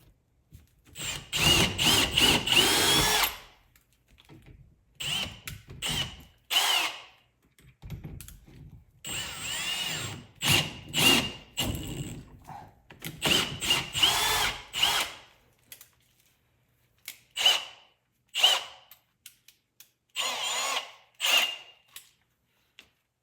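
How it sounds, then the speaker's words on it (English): A power drill bores mounting holes with a pilot bit while a pressure washer is being installed, whirring in repeated close, loud bursts of varying length separated by short pauses. "All right, drill."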